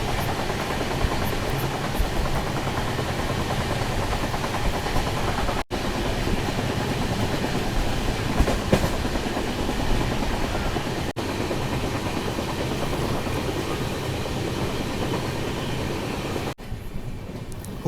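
A steady, loud rumble fills a sleeper-class coach of the Hampi Express as it runs between Hubballi and Mysuru, with a continuous drone, a few brief dropouts and faint rattles throughout.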